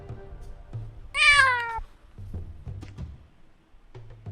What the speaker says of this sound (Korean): 저희 방송 시작할 때 구조한 고양이거든요